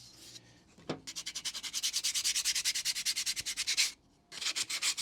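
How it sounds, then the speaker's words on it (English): Light scuff sanding on a painted wooden piggy bank, a quick rhythmic series of rasping back-and-forth strokes, close and clear, pausing briefly before resuming, with no talking. "Let's give only a gentle sort of scuff sand, but it does take a bit of the paint off."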